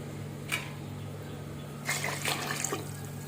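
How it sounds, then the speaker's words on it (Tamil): Coconut milk splashes and pours briefly into a pot, a short trickle followed by a longer burst of pouring, quiet and close against low background hum. "தேங்காய் பால் ஊற்றிடலாம்."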